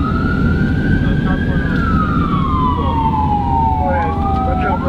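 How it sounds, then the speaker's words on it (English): An ambulance siren wails loudly at a school-staged head-on crash response, its pitch sweeping slowly up and down over heavy engine and road rumble, close and continuous. "we're gonna go lights and sirens"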